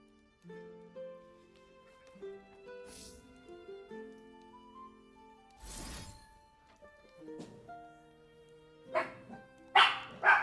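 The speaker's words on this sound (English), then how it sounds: "Sorry for the barking dogs." Several dogs bark in short bursts during a League of Legends game, loud yips and bow-wows rising over a steady game music bed, with the sharpest barks clustered near the end.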